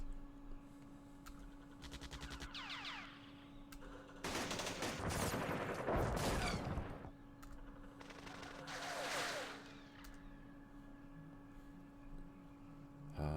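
Mortar and machine gun fire in the war game Campaign Series Vietnam at Dien Bien Phu, bursts of rapid automatic fire and heavy dense explosions over a steady hum of game music.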